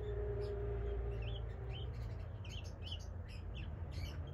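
African grey parrot calling with short squawks and chirps at moderate distance over a steady low background hum, no talk.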